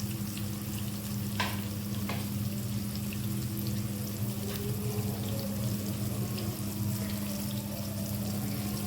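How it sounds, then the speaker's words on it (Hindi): Chicken wings shallow-fry in oil with a steady, close sizzle and crackle, broken by a few sharp pops and clinks of a utensil. "विंग्स जो हैं इनको शैलो फ्राई कर लेंगे।"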